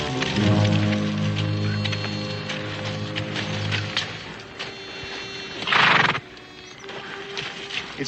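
Horses whinny loudly and repeatedly up close in a western film scene, with a low snort, some hoof shuffling and a soft patter of rain in the background.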